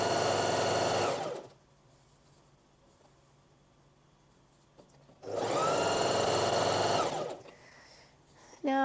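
A sewing machine runs in two steady bursts of rapid mechanical stitching, each lasting one to two seconds, separated by a quiet pause, with a brief click at the end.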